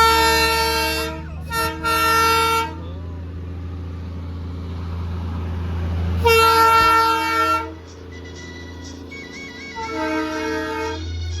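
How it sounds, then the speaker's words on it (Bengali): Toy train in the Kurseong hills sounds repeated long, harmonic horn blasts, a pair at the start, another mid-way and a last one near the end, over a steady low engine rumble, fairly close. "মিনিট 15 অপেক্ষা করার পরেই টয় ট্রেনের আওয়াজও শুনতে পেলাম।"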